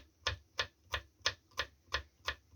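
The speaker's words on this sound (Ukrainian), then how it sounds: "тепер будемо кришити огірки" A knife chops fresh cucumbers into thin slices on a board, heard as eight evenly spaced, crisp taps about a third of a second apart, close but fairly quiet, with no talk.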